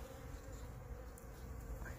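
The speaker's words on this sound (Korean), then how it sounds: "이게 다 꿀벌들이 속에 푹 빠져있는 크로커스꽃" Honeybees buzz among crocus flowers in a garden in March, a soft steady hum that stays faint and close throughout.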